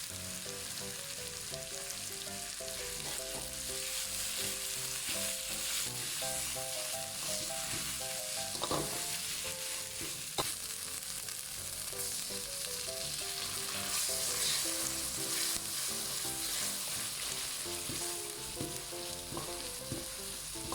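Lemongrass chili paste frying in homemade pork lard, a dense continuous sizzle and crackle with occasional stirring knocks, close and steady over a long stretch, no voices.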